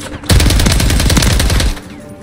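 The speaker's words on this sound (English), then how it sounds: "spamming that shotgun is insane" A shotgun in Call of Duty fires in a rapid, continuous string of loud close blasts for about a second and a half, then stops abruptly.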